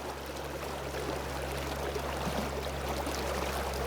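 A river current flows past a fly-fishing spot, a steady, close wash of moving water with a faint low hum beneath it.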